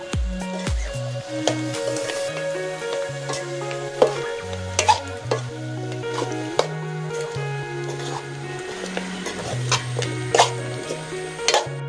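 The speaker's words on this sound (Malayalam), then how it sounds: "പിന്നെ അങ്ങോട്ട് മസാല ഇടിക്കുക, നല്ലപോലെ ഇളക്കുക." Guinea fowl meat fried and stirred with crushed masala in a pan, giving a steady sizzle with scraping stirring strokes, partly masked by continuous background music.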